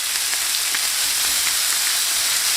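Chicken pieces in marinade sizzle on a hot grill, a steady dense crackle and hiss with small spitting pops, loud and close throughout with no voices.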